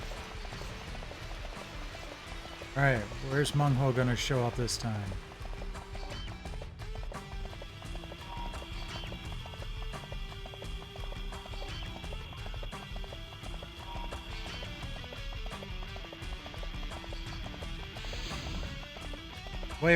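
Hoofbeats of a horse being ridden at a run in a PlayStation video game, a steady clip-clop rhythm under a layer of game music and ambience, with a voice speaking briefly over it early on.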